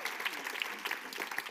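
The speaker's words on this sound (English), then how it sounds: "Thank you for the applause." Audience applause at a documentary premiere, a steady patter of many hands clapping in a hall, moderately loud and continuous for a moment.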